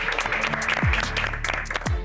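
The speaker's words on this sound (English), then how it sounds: "So can we all give him a huge round of applause for joining us?" Audience applause on a South African cooking competition show, moderate clapping with a low music bed and a couple of swooping effects underneath.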